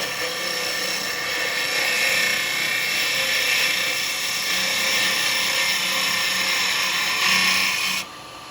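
Carbide cutter hollowing a large segmented, lidded wooden sweet jar spinning on a lathe, giving a continuous loud high-pitched whine and hiss that cuts off abruptly near the end.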